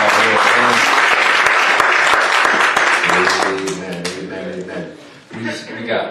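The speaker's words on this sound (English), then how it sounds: "if you don't mind giving her applause" Church congregation applauds a minister at a Wednesday evening service, a dense, loud wash of clapping for about three seconds that thins and fades, with voices and some music tones rising beneath it toward the end.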